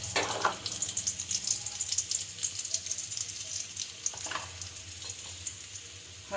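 Desi crab frying and being stirred in a pan, steady close sizzle with intermittent scraping and clattering stir strokes throughout, no voices.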